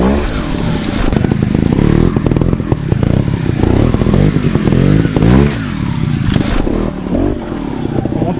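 Trial motorcycle working its way down a rocky gully, the engine revving and burbling continuously at close range, with clattering and scraping as the front wheel taps the rocks to pivot.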